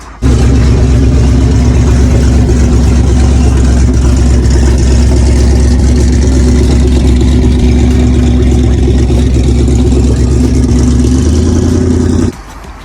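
A cammed Ford Mustang GT V8 idles on a cold start with a loud, steady, close rumble and a slightly uneven, choppy pulse, cutting off abruptly near the end.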